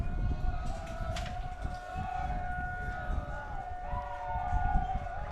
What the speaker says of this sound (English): you can hear it really clear because the tornado siren is just right behind us